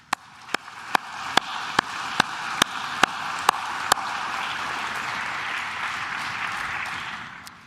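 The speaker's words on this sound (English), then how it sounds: "Let's give them all a round of applause." At a medical school commencement ceremony, a string of evenly spaced sharp claps gives way to a broad, steady wash of audience applause that holds at moderate volume.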